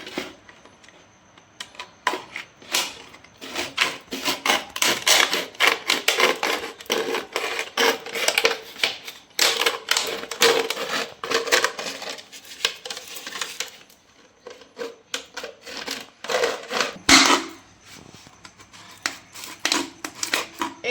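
Empty plastic bottles being cut apart by hand, a dense, crackling run of crinkles, scrapes and snips that continues nearly throughout at close range, with no talking.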